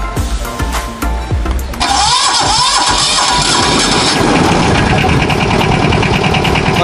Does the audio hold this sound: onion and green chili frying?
no